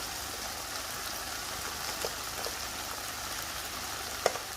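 Sweet peppers sizzle and crackle in a hot pan for chicken jalfrezi, a steady close hiss with occasional small pops and no talking.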